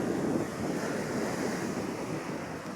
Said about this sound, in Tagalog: Hanggang ngayon maalon pa rin.